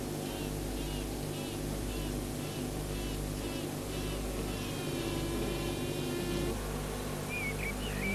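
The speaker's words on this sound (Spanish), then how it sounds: "Más o menos la mitad de las abejas abandonan el panal junto con la vieja reina." Honeybees inside a hive, restless as about half leave with the old queen, make a dense continuous buzzing drone, steady and close throughout.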